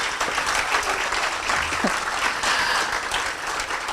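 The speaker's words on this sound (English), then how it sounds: "Let's give him a round of applause." An audience at a 2014 high school ribbon cutting ceremony in Monterey County claps in a dense, steady burst of applause that holds level throughout, loud and close.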